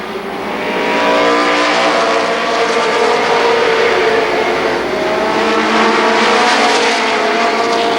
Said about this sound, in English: Bill Cantley taking up a lot of room with that car 26.